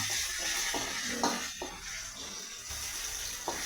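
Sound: curry leaves frying in hot oil for beetroot pickle

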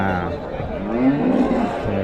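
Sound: HF calves at a cattle market

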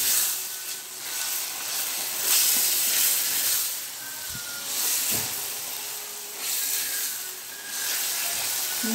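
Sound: stirring minced meat with meat spices in a pan

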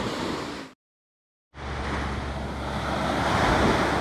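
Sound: ocean waves

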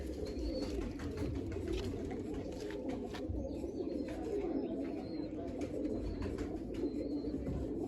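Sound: pigeon cooing

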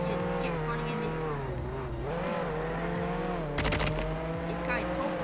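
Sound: car engine and tire squeal in Roblox Jailbreak video game

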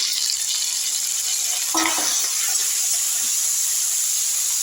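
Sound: onions and tomato sautéing in a pan

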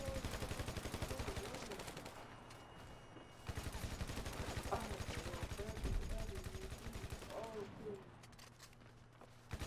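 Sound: gunfire in a video game shootout

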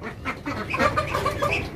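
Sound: ducks and chickens kept at home

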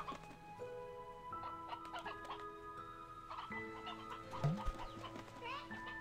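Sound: chicken (hen) clucking in video game Slime Rancher 2

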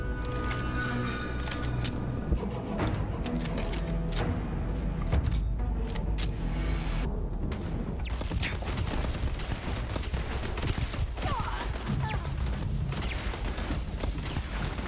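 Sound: turret gunfire in the video game Starfield

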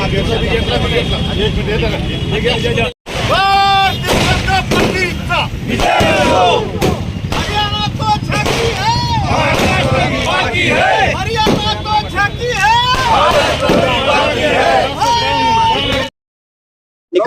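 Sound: crowd celebrating election victory, firecrackers

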